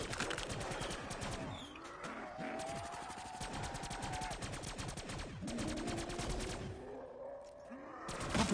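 Dense gunfire against zombies in the Black Ops 3 zombies mode: continuous rapid automatic shooting with overlapping shots and game effects, steady and fairly quiet throughout, no clear talk.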